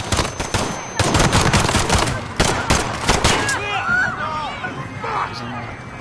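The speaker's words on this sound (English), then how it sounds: "Shots fired." Gunfire from the Call of Duty: Modern Warfare single-player campaign, a rapid burst of loud, close shots in the first seconds, followed by scattered reports, shouting voices and game noise.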